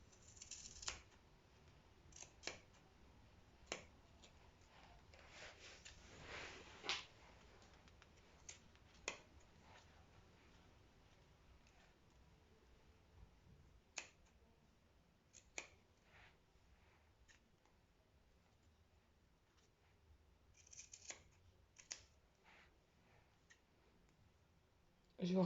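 Scissors snipping through macramé fringes, a series of sharp, quiet clicks spaced irregularly over a faint background, close by.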